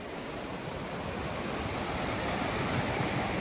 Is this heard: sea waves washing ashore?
yes